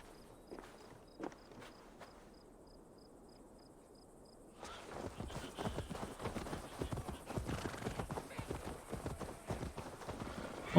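Horse hooves clip-clopping in Assassin's Creed Valhalla, starting sparse and quiet, then turning into a steady, louder gallop with dense rhythmic hoofbeats and a brief whinny amid game ambience.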